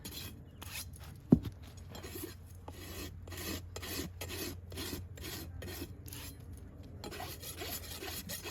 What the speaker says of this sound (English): when I have a sharp rasp, I almost tend to just slow it down just a little bit so I don't leave rasp marks in the foot